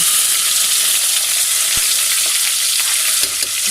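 Loud, close frying of chopped ginger and garlic in a pan, with a dense hiss of sizzling oil and a few soft utensil taps, continuous with no talking.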